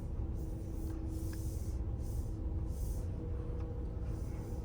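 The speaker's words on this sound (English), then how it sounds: "spraying the stuff for the bugs out front." Bug spray being sprayed outside the front of a building, several soft hissing bursts in an irregular rhythm over a steady low mechanical hum, faint and somewhat distant.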